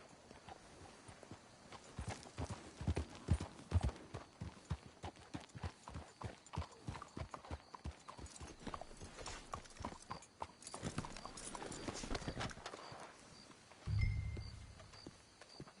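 Horses' hooves clip-clopping in a video game, a quiet, steady trotting rhythm that carries on throughout, ending with a soft low thump and a faint tone.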